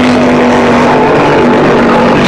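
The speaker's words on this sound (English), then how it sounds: "Sorry about the motorcycle noise on the highway here." A loud, steady motorcycle drone with a constant hum, passing close on a busy highway in the Philippines, fills the whole moment.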